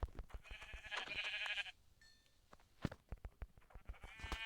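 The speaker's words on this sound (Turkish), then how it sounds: "Sonra koyunlar." Two drawn-out, wavering sheep bleats in Minecraft, the second shorter, ring out over sharp clicking and tapping sounds.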